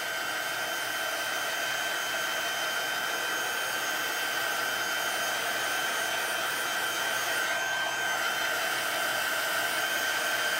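A hair dryer dries wet watercolor paper with a steady, loud, close whooshing whir that holds unbroken for about ten seconds, with no voices.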